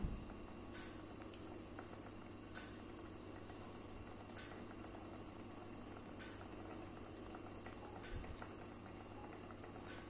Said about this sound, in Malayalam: അപ്പോൾ നമ്മുടെ മീൻ സ്റ്റൂ ഇവിടുന്ന് തിളച്ചിട്ടുണ്ട്